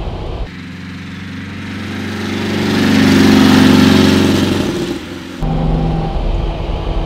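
A 1958 Porsche 356 A with a 135 PS engine runs close by, its steady idle swelling into a loud rev that peaks and eases back, then the engine drops to a rough idle again.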